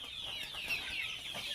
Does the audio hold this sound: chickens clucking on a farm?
yes